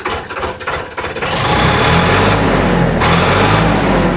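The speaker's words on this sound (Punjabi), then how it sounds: "ਇਹਨੂੰ ਕਰਿਓ ਸਟਾਰਟ ਬਈ ਆਪਾਂ ਇਹਦੀ ਵੀ ਵੜਕ ਦੇਖ ਲਈਏ" A tractor engine, about 2000 hours of use, standing at a village market in Punjab, catches after a few rough opening seconds and settles into a loud, steady, close rumble that swells slightly as it is revved.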